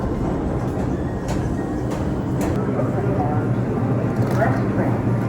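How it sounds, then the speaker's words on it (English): An express subway train rolls into a station, a loud steady rumble and rattle of railcars that fills the whole stretch, with faint voices underneath. "It rolls up just as I run down the stairs and I enter, and it's an express train."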